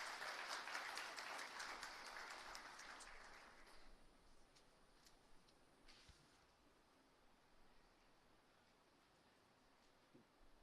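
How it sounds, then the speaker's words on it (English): Applause from an audience in a lecture hall welcoming a guest speaker, fairly loud clapping for the first few seconds, then thinning out and fading to quiet room tone with a few scattered claps. "Please join me in welcoming him with a huge round of applause"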